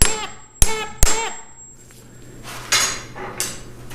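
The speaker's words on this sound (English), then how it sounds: "So I'm just gonna give it a little tippy tap." A hammer taps out the spindle on a VW Split Bus, giving three sharp metallic strikes in the first second, followed by softer clatter and scraping in a workshop.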